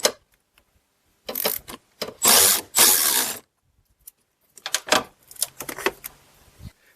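Wrench loosening a 10 mm battery terminal on a Pontiac Grand Prix, two bursts of close metallic ratcheting and clicking with quiet gaps between them.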